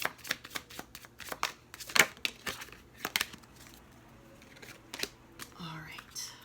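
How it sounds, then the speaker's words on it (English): A tarot deck shuffled and cards drawn by hand, giving a run of crisp riffling snaps and papery slides that come in uneven bursts, close and clear, with soft speech in the background. "I'm going to pull 3 cards with this deck."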